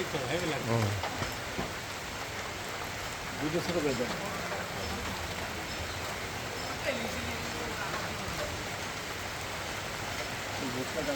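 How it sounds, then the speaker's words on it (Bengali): Rain falls steadily in Digha, a constant hissing patter on surfaces under faint background voices and occasional knocks. "দীঘাতে এই প্রথম রহমতের বৃষ্টি"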